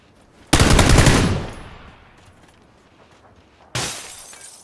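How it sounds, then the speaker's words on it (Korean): Window glass shattering in PUBG, a sudden loud crash with a dense burst of debris that fades over about a second, followed by quiet and then a second sharp crash near the end. "창문 깨지는 소리"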